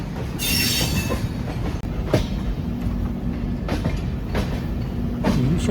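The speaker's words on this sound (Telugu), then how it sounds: "రెండు ట్రైన్లు అయితే ప్యారలల్ రన్లు వెళ్తున్నాయి" Okha Express train rolling along beside another train on a parallel track, a steady rumbling roar with repeated sharp wheel clicks and squeals, close and continuous throughout.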